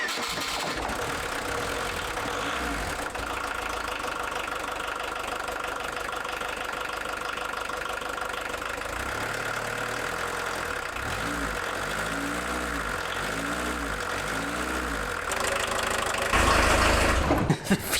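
A diesel van engine idles steadily inside a garage after running for several minutes, a loud continuous low rumble with a knocking diesel clatter and no speech.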